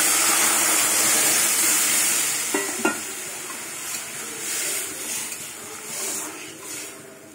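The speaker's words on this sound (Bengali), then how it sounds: "এবার ডাল দিয়ে দেবো।" Moong dal goes into a hot pan with garlic fried in it, giving a loud, steady sizzle and hiss with a couple of clinks and scraping stirring sounds partway through.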